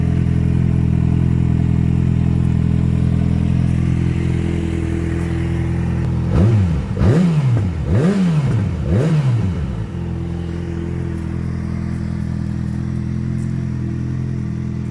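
A Harley X350 with an inline two-cylinder engine idles steadily, then gets three quick rising-and-falling revs in a row before settling back to a smooth, close, droning idle.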